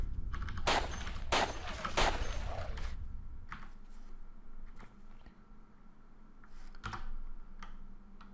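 Gunshots in the game Cataclysm DDA, several sharp loud cracks clustered early and another later, mixed with close keyboard typing clicks throughout.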